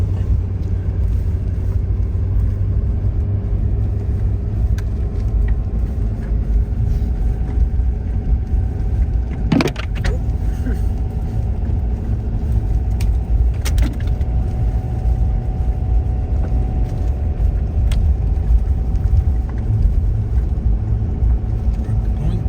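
A truck driving on an off-grid homestead, its engine giving a steady low rumble throughout with constant road and motor noise, close and fairly loud, and a brief sharp knock near the middle.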